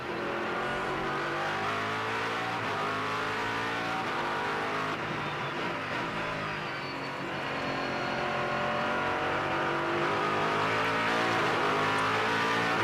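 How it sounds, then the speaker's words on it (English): Race cars at the Six Hours of Watkins Glen, a Grand-Am Rolex Sports Car Series round, roaring loud and continuous as engines rev and pass, with no commentary over them. "He's going to be chasing down Ricardo Zonta in the bright green chrome machine"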